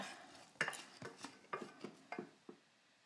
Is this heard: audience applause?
no